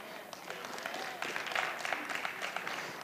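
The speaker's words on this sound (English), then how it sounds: "I got a few hand claps now" Scattered audience hand claps at a church service, a loose patter of clapping from a congregation that swells briefly and then trails off.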